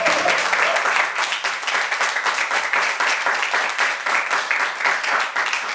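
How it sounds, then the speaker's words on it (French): A studio audience gives an international dancer and choreographer loud, sustained applause, with dense, even clapping throughout and no voices over it. "que je vous demande d'applaudir, chers publics"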